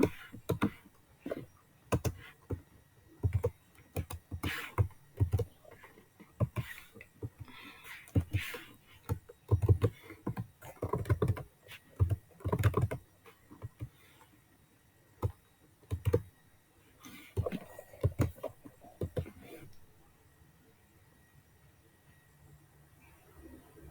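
A formula is typed on a computer keyboard in bursts of close, crisp key clicks with brief pauses between them, fading into quieter scattered taps near the end.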